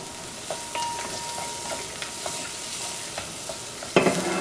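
Chopped carrots go into sautéed onions sizzling in a pan for Kerala-style veg rava upumavu, a steady close fry hiss broken by light stirring scrapes and a sharper clatter near the end.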